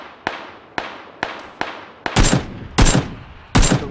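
Gunfire in the battle royale game PUBG Battlegrounds: four sharp single shots spaced evenly, then three heavier, louder bursts with ringing tails, fairly close and with no talking.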